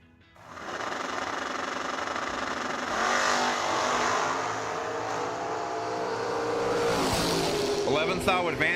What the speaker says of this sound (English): advantage going to the Camaro in the left lane, driven by Gibbons